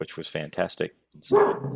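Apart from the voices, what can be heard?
dog barking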